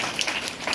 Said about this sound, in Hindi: ताली बजाकर आप इनकी संवेदनशीलता का अभिनंदन करें